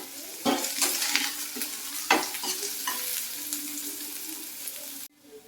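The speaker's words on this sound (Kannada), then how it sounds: "ಈರುಳ್ಳಿ ಸಹ ಚೆನ್ನಾಗಿ ಫ್ರೈ ಆಗಬೇಕು." Onions and green chillies fry in a pan, a steady crackling sizzle with louder bursts as they are stirred, ending abruptly.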